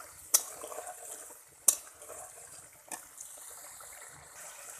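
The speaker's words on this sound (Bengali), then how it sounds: "এইভাবে মশলাটা ভালো করে কষে নেব।" Spice masala being stirred and fried in a pan for a soybean and potato curry, with a quiet sizzle underneath and a few sharp clinks of the spoon against the pan.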